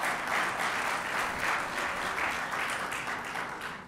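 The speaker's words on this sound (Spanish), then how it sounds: "Dale ese aplauso a Jesús." A church congregation applauds during a Spanish-language sermon, many hands clapping in a full, sustained roar that swells and eases slightly toward the end.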